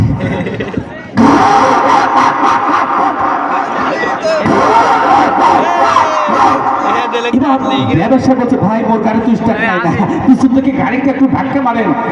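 A voice imitates a private car engine starting in the morning: a brief quiet start, then a loud, close, sputtering crank that settles into a continuous rumbling idle.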